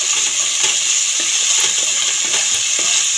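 Spice paste for Kashmiri-style potato curry fries in a pan with a steady, loud sizzle, with faint scraping from stirring throughout and no talk.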